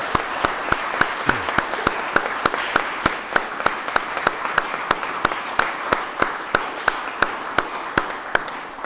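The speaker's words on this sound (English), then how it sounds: "can we first of all give them a round of applause as a vote of thanks?" Applause at a church annual meeting, a vote of thanks from a small congregation; steady hand claps ring out sharply and evenly for the full stretch, close and fairly loud in an indoor hall.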